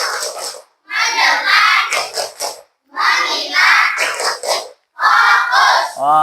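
A class of children clap and shout a rhythmic group chant in loud, close unison, in three energetic bursts separated by brief pauses.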